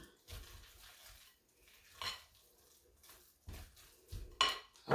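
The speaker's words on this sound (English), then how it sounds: "Stir that up real well." Mashed potatoes are stirred in a bowl with a utensil, giving soft, faint scraping and a few clinks against the bowl in irregular bursts, close and quiet.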